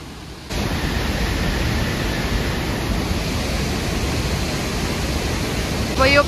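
A river rushing beside a trail on the Langtang trek in Nepal, a loud, steady roar of whitewater filling the whole stretch after a quieter opening moment.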